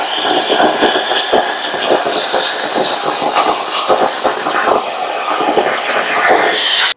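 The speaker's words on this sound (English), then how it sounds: "It's easy to cut metal with the CNC machine" A CNC machine cutting metal for a Miata drift kart build, a loud, harsh hissing whine with rapid rhythmic pulses that runs steadily until it stops abruptly at the end.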